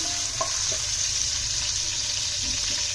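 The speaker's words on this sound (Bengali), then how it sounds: "দিয়ে দিচ্ছি তেল, দিয়ে দিচ্ছি পেঁয়াজ কুচি, নেড়ে দিচ্ছি।" Chopped onions sizzling in hot oil, with a steady bright frying hiss throughout and a few soft scraping stirs of a spoon in the pan, close and continuous.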